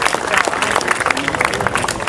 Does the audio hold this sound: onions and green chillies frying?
no